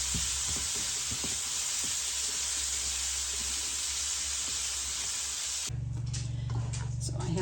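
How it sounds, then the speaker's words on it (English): Onion cooking in a couple of spoonfuls of drained bacon grease in a pan on lowered heat, giving a steady close sizzle throughout that changes character near the end. "I'm going to cook the onion in the bacon grease."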